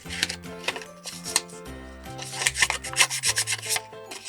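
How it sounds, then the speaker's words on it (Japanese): A WPL C64-1 RC car part is roughened with sandpaper in short, uneven rubbing strokes, close and distinct, over soft tonal background music. "ペーパーで荒らして、"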